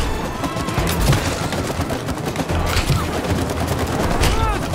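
A gun in the co-op video game It Takes Two fires in rapid, continuous bursts that overheat and slow down, with game effects mixed in and the players talking.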